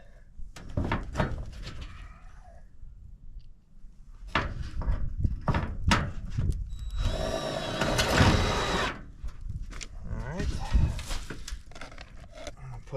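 Screws are driven into old tin roofing sheets, with a power driver whirring in bursts among metallic knocks and rattles of the panels, close by and fairly loud, with someone talking in between.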